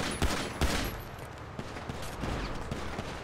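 Gunfire in a GTA V Online shootout crackles in bursts, with two louder shots near the start and then a dense, steady spray of rapid fire that carries on underneath.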